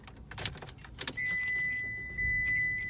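Keys jangle and clink close by inside a 2020 Mitsubishi Eclipse Cross, in a few quick metallic rattles, followed by a steady electronic chime tone.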